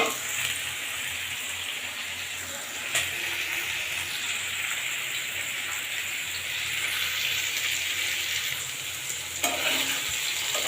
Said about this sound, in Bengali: এদিক দিয়ে আমার আলু ভাজা হচ্ছে